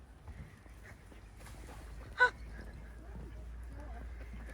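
Geese or ducks honking outdoors near a waterfall trail, one loud sharp honk standing out over quieter scattered calls and soft background noise.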